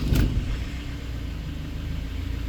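A Ford Transit van engine cranks and fires at the start, then settles into a steady, close low idle rumble that carries on to the end.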